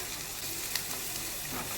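Jackfruit curry with boiled potatoes sizzles and fries in a pan, a faint steady crackle with a light clink of stirring partway through.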